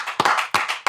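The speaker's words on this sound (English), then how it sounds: "A studio audience welcome." A studio audience claps in bursts of applause at a guest's welcome onto a talk show, three sharp swells of clapping close together, with no voices heard.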